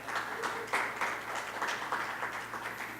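Audience at a symposium on city design clapping, a short burst of moderate applause from a room of people, with uneven rhythmic peaks and a steady hum underneath.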